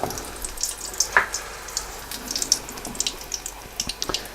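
Beer-battered onion rings dropped into hot oil hiss and sizzle softly, with scattered sharp crackles and pops popping up close throughout.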